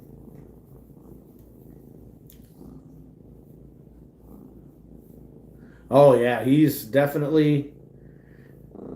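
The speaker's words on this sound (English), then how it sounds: "He purrs so loud." A pet cat purrs with a low, steady rumble that runs continuously and fairly quietly throughout, while a person briefly talks over it near the end.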